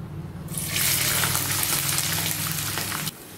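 Onion pieces frying in a pan of oil, a loud, steady hiss and sizzle that starts abruptly and runs continuously for a few seconds before cutting off.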